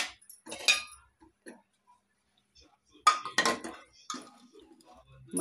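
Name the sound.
pressure cooker being opened, lid and utensils clinking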